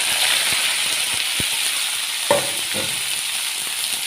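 Green onion and green garlic fry in two large spoonfuls of hot oil for a Kathiyawadi-style ringan no oro, giving a steady, close sizzling hiss broken by a few soft clicks and scrapes of stirring, with no voices.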